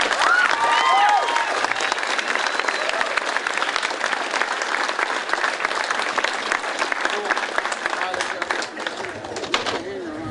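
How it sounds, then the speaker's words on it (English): A debate audience gives a big round of applause, with dense, continuous clapping from a large crowd that holds steady and fades slightly near the end. "let's give them one big round of applause"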